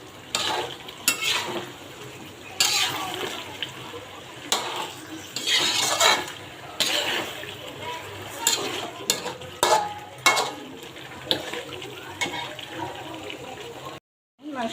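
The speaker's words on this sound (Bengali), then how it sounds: "মাংসটা এখানে কষা হয়ে গেছে আমার।" Meat being sautéed and stirred down in a pan for a home-style Bengali dish, with steady loud sizzling broken by repeated scraping and clanking of a spoon against the pot, then a sudden cutoff near the end.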